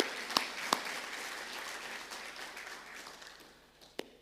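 Graduation ceremony audience applauds in a hall, a broad crowd of clapping hands with a couple of sharp, loud claps up front, gradually thinning and fading over about four seconds.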